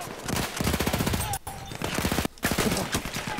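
Rapid automatic fire from an Automatico M1918 in Battlefield 1, loud close bursts of fast repeating shots with two short gaps between volleys.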